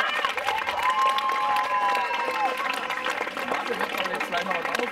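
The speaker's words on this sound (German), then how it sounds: "riesen Applaus" A crowd applauds and cheers steadily at the prize ceremony for the 2023 Waldeck cup-winning girls' youth football team, TSV Dorbach. A dense, even roar of clapping fills the whole stretch, with a thin whistle-like tone rising through it and voices mixed into the noise.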